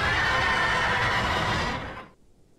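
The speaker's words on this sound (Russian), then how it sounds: "Лошадиный крик." A horse neighs loudly in the dinosaur survival game Path of Titans, a dense, sustained whinny that fills about two seconds and then cuts off sharply into near silence.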